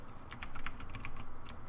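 Rapid typing on a computer keyboard while writing game code in Unity, a dense run of close, crisp key clicks at an uneven rhythm with no talk.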